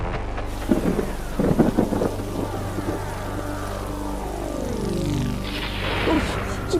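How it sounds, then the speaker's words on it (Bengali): Rain pours steadily while thunder rumbles and cracks through a monsoon scene in the Bengali cartoon Nut Boltu, with loud rolling booms over the constant hiss of rainfall. "কি বাজ পড়ছে রে বাবা"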